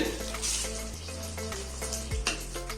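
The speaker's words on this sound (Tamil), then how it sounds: "குழம்பு நல்லா கொதி வந்து நல்லா சுண்டிருச்சு இப்போ எண்ணெய் பிரிஞ்சு வந்திருக்கு பாருங்க" Small onion kara kulambu bubbles and thickens in a pot, with oil separating at the surface. A continuous close sizzle and crackle runs with a low background hum, and no one speaks.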